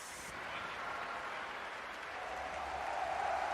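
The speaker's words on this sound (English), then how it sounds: "A lot of Fnatic fans cheering here." Crowd of fans cheering at The International 2021 Dota 2 esports tournament during a Fnatic versus PSG LGD match, a steady broad roar of applause and cheers that swells slightly toward the end.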